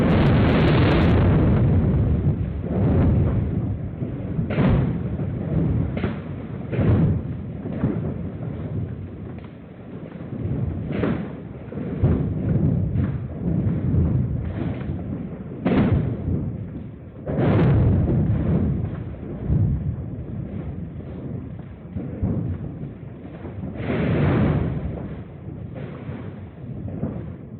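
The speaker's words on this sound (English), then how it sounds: "translated them into sound waves so that we could hear what the sound of the 2011 earthquake sounded like" Seismometer readings from the 2011 earthquake turned into sound give a loud, continuous rumbling roar, with repeated bursts and booming surges that rise and fall across the whole span, with no voices.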